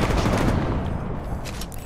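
Rapid automatic gunfire from Apex Legends rattles loud and continuous in a dense burst that barely lets up.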